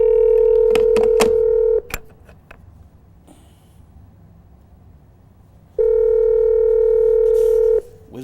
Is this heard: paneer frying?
no